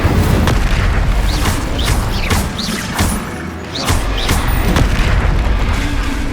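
Repeated blasting-spell explosions from the Confringo curse in the Hogwarts Legacy game, a dense run of loud booms and crashes roughly every half second over a constant rumbling background of battle noise.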